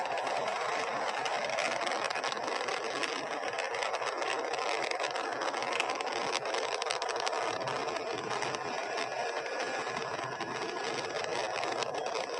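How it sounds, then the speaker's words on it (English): Space shuttle Atlantis on its final launch, engines thundering as it climbs through the transonic phase: a continuous, loud, broadband roar with crackling texture, steady throughout and with no voices over it. "Engines now revving up"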